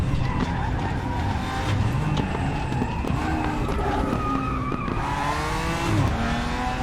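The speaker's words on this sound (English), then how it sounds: "Class car approaching." A GT3-class race car in RaceRoom Racing Experience approaches on the Bathurst circuit, its engine a loud, steady roar with shifting pitch and occasional tire squeal, blending with other car noise.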